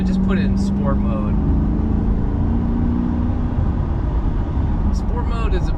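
A Corvette C8 in sport mode drones steadily from inside the cabin, a low engine hum under someone talking.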